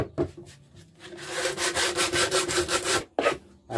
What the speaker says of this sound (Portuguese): Vou dar uma lixa logo aqui, né?